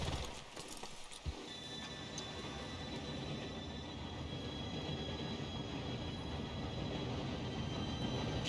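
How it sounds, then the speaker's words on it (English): A train arrives in the video game Red Dead Redemption: a steady, close rolling rumble of wheels and cars with faint high squeals running throughout. "Train should be here any minute now."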